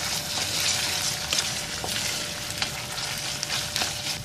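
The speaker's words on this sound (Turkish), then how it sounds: "Şimdi biraz da bu malzemelerimizi güzelce kavuralım." Ground meat and potatoes sauté in a pan with a steady, close sizzle and crackle, broken by scraping stirs and occasional sharper pops.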